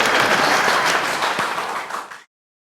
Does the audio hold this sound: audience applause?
yes